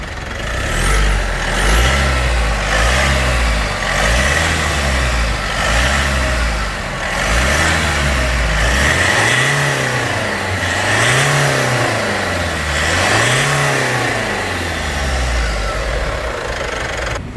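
A car engine with a freshly cleaned turbocharger revs again and again in a rhythmic rise-and-fall pattern, loud and close, settling into three slower, smoother revs toward the end, with no talking.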